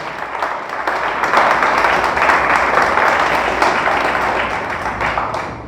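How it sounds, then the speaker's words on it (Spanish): A church congregation claps loudly and steadily for the Lord during a sermon, a sustained wash of applause lasting several seconds before tapering slightly at the end. "Le damos fuerte el aplauso al Señor."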